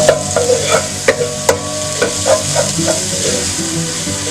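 Keema mince and peas frying and being stirred in a pan, with a steady sizzle under repeated scraping strokes of a spoon at close range.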